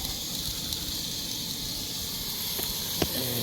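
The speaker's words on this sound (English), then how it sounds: "It's good to see that the stove is producing enough heat to get this stuff sizzling." Chopped onion and carrot sizzle on a stove, a steady crackling hiss with a few faint clicks and taps near the end.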